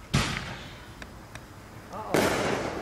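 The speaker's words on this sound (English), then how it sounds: "Oh, I hear everybody's here the fireworks." Fireworks going off during a neighborhood celebration: two loud bursts with a couple of faint pops between them, heard from outdoors at some distance.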